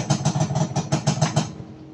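A Honda Dash motorcycle with a freshly cleaned carburetor runs close by in loud, rhythmic, lumpy pulses, then quickly dies away as the engine stalls.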